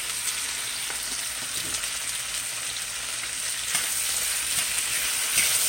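Peppers and onions frying in a large 20-inch wok, a steady loud sizzle with occasional stirring scrapes throughout, no voices.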